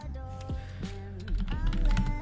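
Rapid keystrokes clatter on a computer keyboard during a session of the basketball video game NBA 2K, fairly close, with game sound and music playing underneath.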